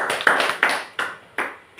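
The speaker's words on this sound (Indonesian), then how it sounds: "Tepuk tangan dulu untuk Pak Marhadiano." A group of participants in a classroom session claps in unison for a fellow participant, giving about five sharp, evenly spaced claps in a steady rhythm, each ringing briefly, with no talking in between.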